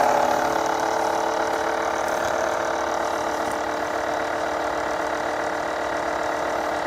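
A Renault Kaptur 1.6 petrol engine with a Jatco JF015E CVT idling steadily in a garage, a constant close hum with a faint rhythmic knock throughout.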